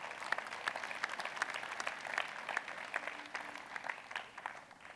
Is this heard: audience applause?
yes